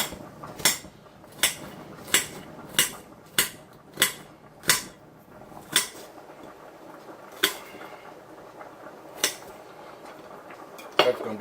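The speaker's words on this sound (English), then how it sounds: "Get a rough chop on this here onions" Onions are roughly chopped with a knife on a cutting board, about a dozen sharp, evenly paced knocks that slow and thin out toward the end, heard up close over a low room hum.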